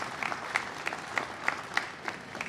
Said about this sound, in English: A round of applause for Mark and the entire foundation for what they do